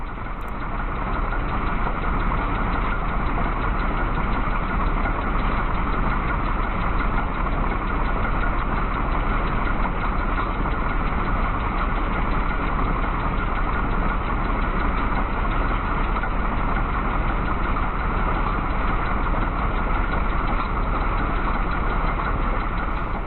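A Raptor prototype engine, newly fitted with belt tensioner and pulleys, idles steadily while warming up, a constant, loud mechanical drone with no change in pace throughout.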